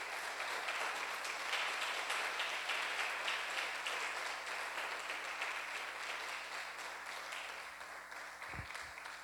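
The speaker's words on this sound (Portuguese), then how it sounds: "Aplaudam a Deus" Church congregation applauding during a worship service, a dense, sustained wash of clapping that fills the room, then gradually softens toward the end.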